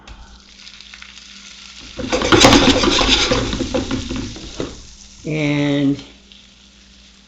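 White shrimp sizzle loudly as they fry in a hot skillet, a dense crackling hiss that swells and stays steady, with a brief spoken word, a clattering bump and a short whooshing burst near the end.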